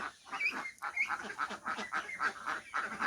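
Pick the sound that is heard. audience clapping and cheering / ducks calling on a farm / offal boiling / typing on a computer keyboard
ducks calling on a farm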